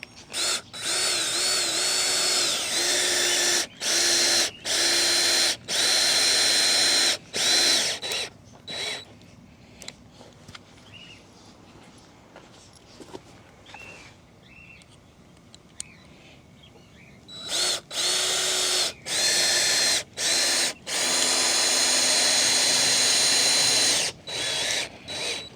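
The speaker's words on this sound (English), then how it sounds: "I'm going in with some more screws, and please use some strong screws to hold these things together" A power drill drives strong screws into a wooden frame for a raised garden bed, several loud whirring bursts in quick succession at the start and again near the end, with quieter handling and shuffling in between.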